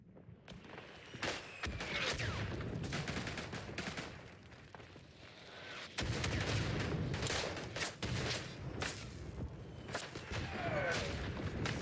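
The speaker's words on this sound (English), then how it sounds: "Yeah, that machine gun." Steady rattling machine-gun fire in the World War I shooter Isonzo, rapid repeated shots continuing through the whole stretch over a rumbling battlefield backdrop, fairly distant and moderate in level.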